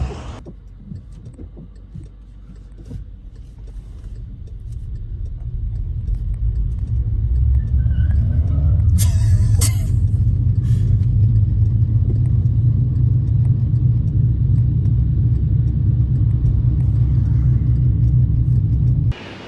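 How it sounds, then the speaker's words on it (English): A VW Caddy towing a Skoda Yeti 2.0 TDI uphill on a North Yorkshire green lane gives a deep, steady engine rumble that builds and holds loud and close, with a brief clatter partway through. "George is kindly going to try and tow us uphill in his caddy"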